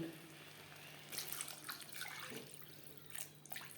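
Water is poured into a pan of fried spices for a Bengali fish curry: faint background hum, then a splashing, hissing rush of liquid that comes in uneven bursts, quiet and close.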